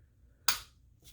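A single sharp dry-fire trigger click from a Sig Sauer P320C compact pistol, close and crisp, followed by a fainter second click, with no voices.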